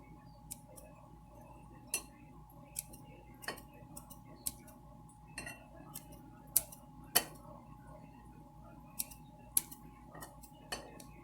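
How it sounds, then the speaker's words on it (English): Kitchen scissors snip through bread in a series of sharp, irregular clicks, quiet and close, against a soft background hum. "I'm going to just chop that up fine using my kitchen scissors"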